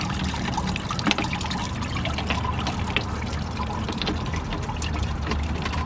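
Water from a DIY solar fountain trickles and splashes steadily, a close, continuous patter with small drips, outdoors.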